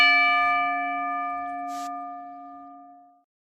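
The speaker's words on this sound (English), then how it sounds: "So let's ring that damn bell." A wrestling ring bell at a live wrestling event, struck once after a referee's three count, ringing out loud and near with a clear sustained metallic tone that slowly decays, with no talk over it.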